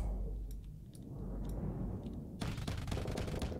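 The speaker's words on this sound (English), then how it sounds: "Ooh, machine guns. I don't appreciate that nonsense." Machine-gun fire in the space combat game Starsector rattles in rapid bursts over a heavy, rumbling battle drone, with a dense, sustained spray of shots in the last second or so. No one speaks.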